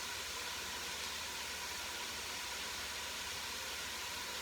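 Salted leeks sweating in a pot with bacon for a ham, potato and cabbage soup give a steady, soft sizzling hiss that holds evenly throughout, faint and continuous with no voices.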